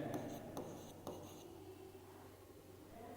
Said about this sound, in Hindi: तो सबसे पहले यहाँ पे लिखेंगे गिवन दैट